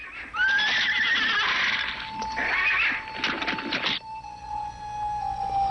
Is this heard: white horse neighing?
yes